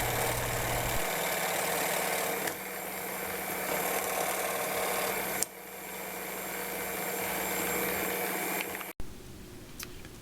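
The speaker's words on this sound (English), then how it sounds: "It's really not hard at all to cut this aluminum with the jigsaw." A jigsaw cuts through aluminum during a center console boat wiring project, its motor giving a steady, loud buzzing drone with a slight rattle for about nine seconds before stopping abruptly.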